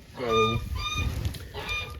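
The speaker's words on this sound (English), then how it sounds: "Whenever I let the geese out" Several loud goose honks, harmonic and nasal, sound close by in two bursts, with some rustling and background noise between them.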